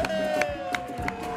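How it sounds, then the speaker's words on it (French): A studio audience on a French-language TV show claps and cheers in a short, dense burst of crowd noise, with a loud host voice over it and music playing. "Faites du bruit, s'il vous plaît, pour l'homme qu'on appelle Obams."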